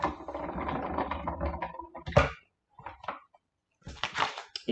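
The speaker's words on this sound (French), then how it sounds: "Et je vais ressortir pour le coup ma machine de découpe." A paper die-cutting machine cranked by hand, giving a whirring, ratcheting mechanical churn that stops and starts in short bursts, close and with no talk.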